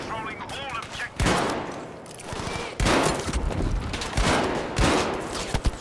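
Shotgun blasts in Battlefield 5 on the Operation Underground map, four loud separate booms spaced about a second or more apart, each with a sharp attack and a short tail, over a background of game noise and other gunfire.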